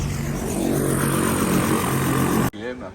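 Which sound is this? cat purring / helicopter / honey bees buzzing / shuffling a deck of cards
helicopter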